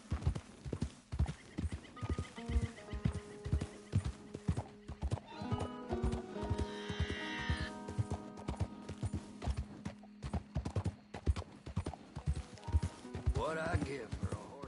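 Horse hooves clip-clop in a steady rhythm in a video game, close and loud, with a horse whinnying partway through over a musical backdrop and no talking.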